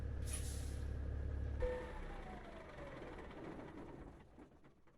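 A truck engine in Euro Truck Simulator 2 shuts off abruptly with a loud low rumble cutting out, followed by a sharp air brake hiss and a fading mechanical whine as the system settles, with no talking.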